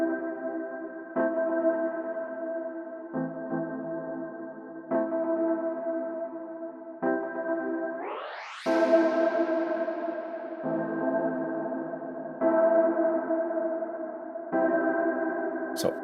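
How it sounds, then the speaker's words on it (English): An ambient room-type reverb plugin with dampening washes over sustained synth chords. The chords change every couple of seconds, with one rising pitch sweep midway, and no talk. "I think this is emulating a room type reverb, but it just sounds really cool."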